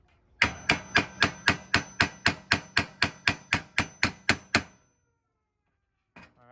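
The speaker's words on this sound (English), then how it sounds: "you basically just pick your spot and hit it with a hammer, and it goes in" A hammer strikes a hole punch through metal flashing for a rat-proof compost bin, landing about sixteen loud, sharp metallic blows in a steady, even rhythm. Silence follows, then a faint rustle near the end.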